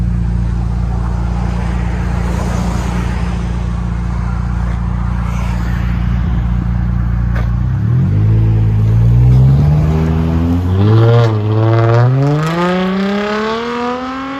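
2014 Dodge Charger 3.6L V6 with aftermarket exhaust idles with a steady low burble, then revs up in several loud rising pulls near the end.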